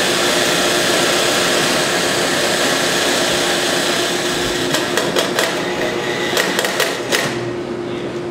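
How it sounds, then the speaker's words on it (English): Coffee beans being ground in a coffee grinder at a cafe, a loud, close, steady whirring grind that ends with a few sharp knocks and taps as it winds down. "Load everything into the grinder."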